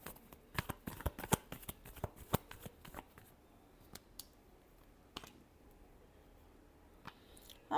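Tarot cards are shuffled by hand, close and quiet, giving rapid bursts of crisp riffling clicks that thin out into a few scattered snaps.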